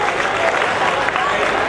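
A crowd at an outdoor patriotic tricolour flag rally claps steadily in tribute, a dense, even wash of applause throughout, with a voice faintly underneath.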